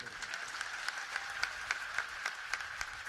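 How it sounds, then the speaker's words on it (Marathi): A crowd at a Maratha rally claps in applause, with dense, steady hand-clapping over a few seconds and no speech, moderately loud and fairly close. "सगळ्या मराठा समाजाचं टाळ्या वाजवून कौतुक करू"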